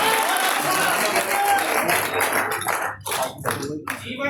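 A live audience breaks into broad applause, many hands clapping in a dense, sustained wash that thins and grows patchier toward the end.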